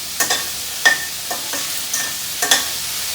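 Sliced okra sautés in hot oil in a pan, with a soft steady sizzle and a few scattered spoon scrapes. No one talks.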